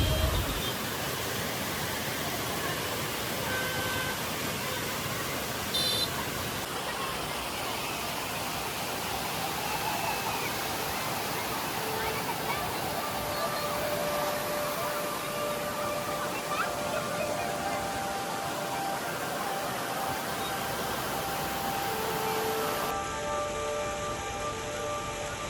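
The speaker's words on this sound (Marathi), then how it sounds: "अवघ्या 5 मिनिटात आम्ही पोहोचलो सुंदर भाजे धबधब्याजवळ" Bhaje waterfall near Lonavala in the monsoon, a loud, steady broadband rush of falling water filling the whole stretch without letup.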